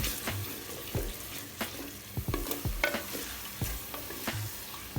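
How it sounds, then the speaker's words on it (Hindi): Tomato pieces tipped into ginger garlic paste frying in a pan, giving a steady sizzle broken by sharp stirring scrapes and clinks of the spoon, close and alone without talk. "मैं इसमें डाल दूँगी ये टमाटर"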